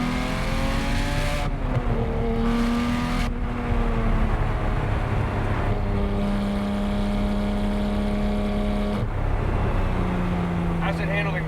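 A 2016 Porsche 911 R engine and exhaust rev up and down through several gear changes with rev matching on a road drive, loud and close, with steady rumbling between pulls.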